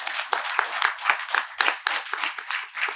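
An audience clapping in a steady, fairly close patter of many hands during a talk session, continuous for a few seconds with no voices over it.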